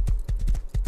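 Horse hooves in the video game Rust clip-clop in a quick, even rhythm of about five close, distinct thuds within under a second, with no talk.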